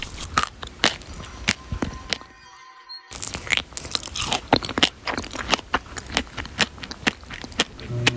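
Crunchy food being chewed up close, with repeated crisp bites and crunches in an uneven rhythm and a brief quiet pause partway through.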